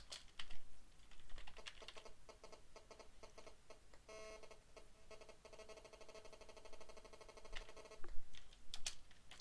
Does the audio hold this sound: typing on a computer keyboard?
yes